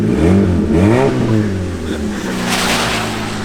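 A motorbike engine revs up and down in a few rising and falling sweeps, close and loud, then settles to a rough idle with a hissy rasp that may come from a holed exhaust.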